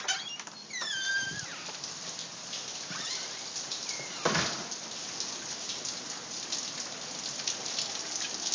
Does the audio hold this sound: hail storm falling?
yes